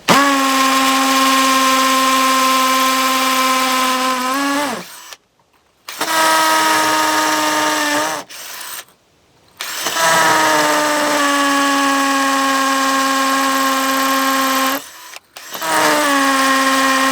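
A hammer drill bores into brick in three long, loud bursts of steady whining, hammering drive, separated by short silent pauses, with the pitch dropping slightly as each burst ends.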